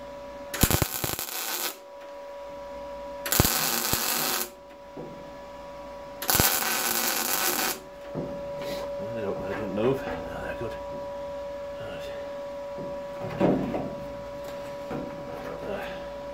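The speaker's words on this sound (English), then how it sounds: "Welder was making the funny noise." A welder puts tack welds on a body panel of a Ford Cortina Mk5 under restoration. Three loud, close bursts of harsh crackling last about a second each and are followed by quieter workshop handling noises.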